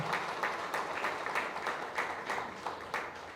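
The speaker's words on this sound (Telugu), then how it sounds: "మీ అందరూ ఫస్ట్ అర్జెంటుగా గట్టిగా చప్పట్లు కొట్టండి." A crowd applauds at a film team press meet for Raju Weds Rambai, with steady, dense clapping that swells in small pulses throughout and no talk over it.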